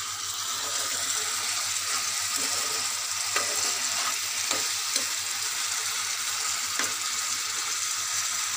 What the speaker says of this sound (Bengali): দেখুন বন্ধুরা, মশলাটা কেমন কষা হয়ে গেছে আলুর সঙ্গে।